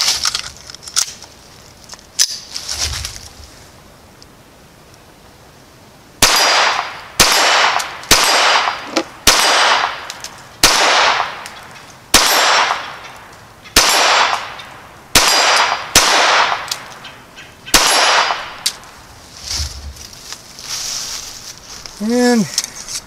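Browning Buck Mark Medallion pistol firing hollow-point rounds at long-range steel targets, about a dozen sharp loud reports in an irregular string after a quiet stretch, each followed by a short ring of steel.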